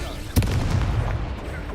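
A Confringo blasting spell explodes in Hogwarts Legacy: one sharp, loud crack followed by a deep rumbling roar that lingers at a steady level to the end.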